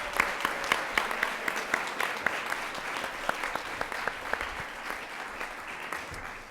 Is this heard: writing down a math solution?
no